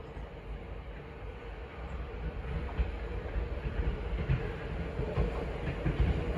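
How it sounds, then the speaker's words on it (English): A Thameslink class 700 electric multiple unit runs into Hitchin station on a Brighton to Cambridge service, a steady rolling rumble with faint rail clatter building slightly as it draws near, no voices over it. "Now arriving is the 1440 Thameslink service from Brighton to Cambridge,"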